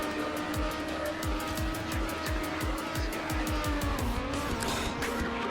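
A race car engine in Trackmania Nations Forever revs hard and steadily, rising in pitch and dropping abruptly with each gear shift, under tire squeal.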